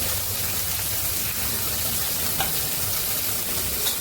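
Onions frying in a pan for a Tamil home-cooked dish, a steady, dense sizzle with soft crackling that holds evenly throughout, close and continuous with no talking.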